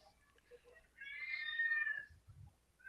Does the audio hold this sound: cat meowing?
yes